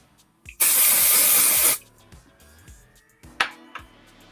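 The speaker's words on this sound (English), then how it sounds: "let's put some dry shampoo on her." A single steady hiss of dry shampoo sprayed onto a doll's hair lasts just over a second up close, followed by soft handling noises and one brief rustle.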